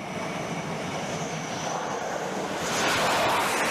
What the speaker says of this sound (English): the aircraft screeches to a halt, its engines roaring and the arresting wires shaking under